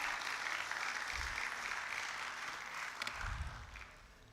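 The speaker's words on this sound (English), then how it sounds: "Please give them a huge round of applause." An audience at a business conclave in Hyderabad applauds to welcome the chief guest, a soft, distant wash of clapping that slowly fades, with low thumps underneath.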